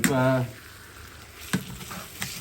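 Meat sizzles and fries in a pot for Sindhi biryani, a steady soft hiss with a few brief clinks as it is turned, fairly quiet and close.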